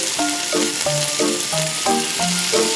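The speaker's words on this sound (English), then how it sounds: "Fry for 5 minutes." Crab meat fries in hot cooking oil in a small kitchen pan, giving a steady sizzle beneath a melodic background of repeating tonal notes for a few seconds.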